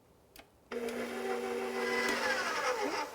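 Electric mixer beating pumpkin biscotti dough on medium speed, switching on abruptly after a brief clatter and then whirring steadily with a high motor whine, close and loud, no one talking.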